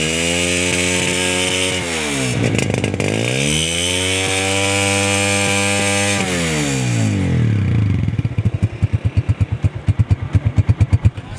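A used Chinese 125cc motorcycle engine running close by, revving up and down in long sweeps, then dropping to a lumpy, pulsing idle with distinct rapid thumps.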